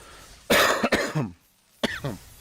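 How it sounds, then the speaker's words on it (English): Someone streaming a Magic: The Gathering Arena draft coughs twice in close succession, then gives a single shorter cough after a pause. The coughs are loud and near, with no talk around them. "Sorry again for the coughs"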